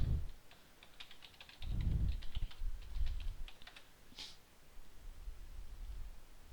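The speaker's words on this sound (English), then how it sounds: "I'm going to type in my email" Computer keyboard typing at a desk, a burst of quick irregular keystrokes followed by sparser taps, close and moderately quiet, with low thumps and a soft rustle mixed in.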